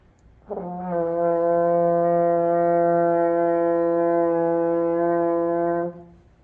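A French horn holds one steady, full open C for about five seconds, starting cleanly and ending with a quick release.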